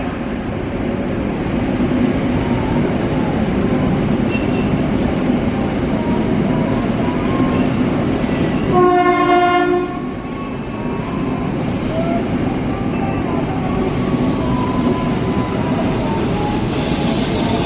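A passenger train rumbles steadily nearby at Jatinegara station, Jakarta, with a high metallic wheel squeal that rings out partway through before the rolling noise continues.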